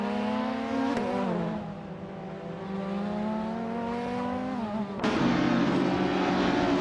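A 1994 Opel Astra F GSI racing on a narrow Valencia street circuit in a driving game, its engine a steady, close, buzzing drone that shifts pitch with a brief gear change near the one-second mark and swells louder at five seconds.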